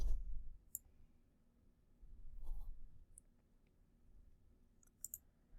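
A few crisp, separate computer mouse clicks, sparse and close, over a quiet room hum with faint low thumps, suggesting clicking and dragging.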